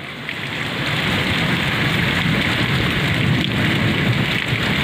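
Steady heavy rain pours down in a continuous, dense hiss, close by and loud, with no voices over it.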